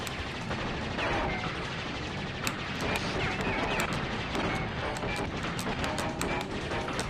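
Rapid bursts of missile fire from the N. Gin boss robot in Crash Bandicoot 3: Warped, a dense, continuous barrage of sharp blasts and explosions over game music with no speech.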